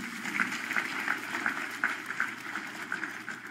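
Church congregation claps for Jesus at a Sunday service in a steady rhythmic beat, moderately distant and fairly faint, with a few voices under it.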